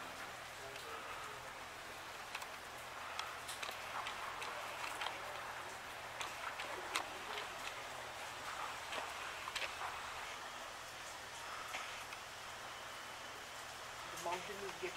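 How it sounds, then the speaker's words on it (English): Soft misty rain falling on a foggy mountainside at a hill resort, a steady diffuse patter with faint scattered drops and a low constant hum underneath, heard alone without talk. "We're so lucky to have this misty rain."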